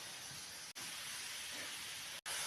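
Minced meat sizzles in a frying pan, seasoned only with salt and pepper, giving a steady close hiss with two brief cutoffs.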